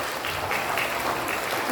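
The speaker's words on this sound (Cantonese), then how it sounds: "請大家咧一次過俾啲掌聲喺評估3全級攞到頭3名嘅同學" Applause from an audience at a lower-grade school prize-giving ceremony honouring the top three students in a year-level assessment, a short burst of steady clapping close by.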